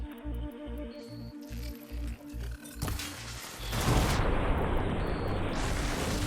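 Glowing crystals detonate in a video game, giving a loud burst of explosive noise that swells after a stretch of rhythmic pulsing game sound and rumbles on for several seconds.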